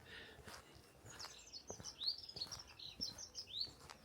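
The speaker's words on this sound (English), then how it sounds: "A dunnock to my left." A dunnock sings along the coast path at St Lawrence in the Isle of Wight Undercliff, a quick run of thin, high twittering notes heard at moderate distance over faint outdoor background.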